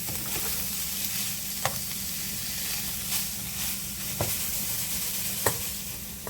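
Ground beef for egg rolls sizzling in a pan, a steady close hiss of frying with occasional soft scrapes and knocks as it is stirred.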